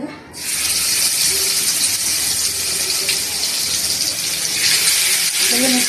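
Chicken pieces for chicken fry drop into hot oil and break into a loud, steady broadband sizzle that starts abruptly and holds throughout, with faint voices in the background.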